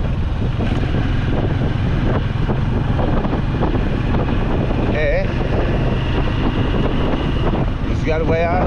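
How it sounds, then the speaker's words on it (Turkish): Steady wind buffets the microphone in a constant low rumble on a motorcycle trip in Turkey, with brief faint whistling tones near the end. "Rüzgar bayağı ötmeye başladı."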